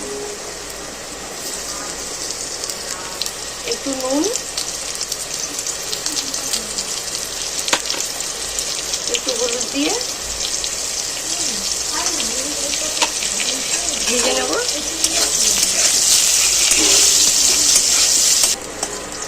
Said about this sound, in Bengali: মাছ ভাজা গরম তেলের মধ্যে আলুগুলো কেটে রেখেছিলাম আলুটা দিয়ে দেবো